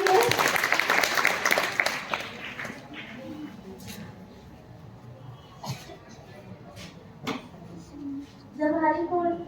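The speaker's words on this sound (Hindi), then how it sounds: "जोरदार तालियां इसके लिए" Children and a teacher in a school classroom break into a short burst of applause at the start, which fades into scattered claps, a few sharp knocks and children's voices talking.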